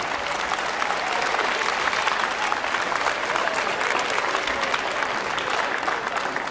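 Dense, loud, sustained clapping from a student audience at a keynote talk in a school hall, an even wash of many hands throughout with no talk over it.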